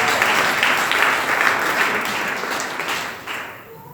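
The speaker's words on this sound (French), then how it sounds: "Acclame Jésus" A church congregation at a revival meeting in Rabat, Morocco, applauding in worship: dense, steady clapping from a large crowd that holds loud and then slowly tapers off near the end.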